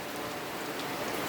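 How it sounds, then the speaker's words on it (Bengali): Steady rain falls in a continuous, even hiss on the day of Eid al-Adha, heard only briefly and with no voices. "আজ রহমতের বৃষ্টি শুরু হয়েছে দেশে"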